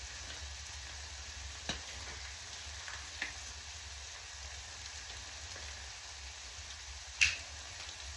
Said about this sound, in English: that thing sizzling, crackling, and popping